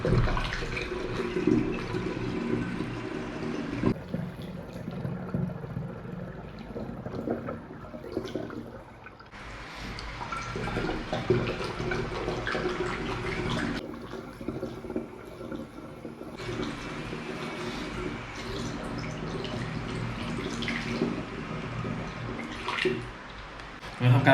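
Drinking water pours from 1.5-litre bottles, two of them making three litres, into a container while making red wine from Merlot grapes: a steady gushing, splashing stream, close and continuous with short breaks between pours.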